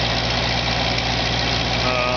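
Smoky engine idling steadily with a light throttle blip, burning oil, with most of the smoke from a rear cylinder with a fault; a close, constant low rumble and hum with no clear rise in revs.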